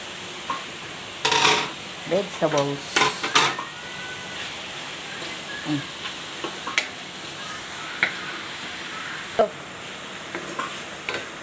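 Vegetables sautéing for pansit, with a steady sizzle under clattering stirs of a utensil against the pan, heaviest early on, then lighter scattered scrapes and taps.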